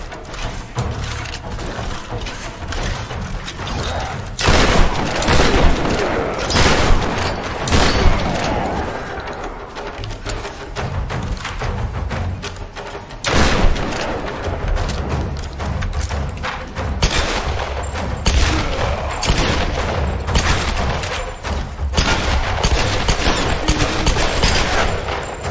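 Dense, continuous gunfire with heavy thuds and bursts of automatic fire in the video game Tomb Raider, loud and close throughout, with no voices.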